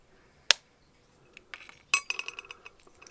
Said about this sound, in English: So I will just go at it and cut it.